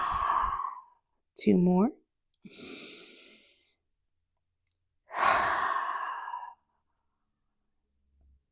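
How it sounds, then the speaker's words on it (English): A cleansing yoga breath: a long, loud exhale through the nose, then a voiced sigh and a second, drawn-out breathy exhale, close up, with a few brief spoken words between them. "So inhale, audible exhale through the nose."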